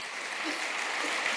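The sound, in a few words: applause for Ajeet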